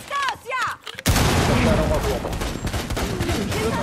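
Rapid gunfire in Rainbow Six Siege, a tactical shooter game, breaks out after a moment of quieter in-game sound and continues as a dense, loud burst of shots.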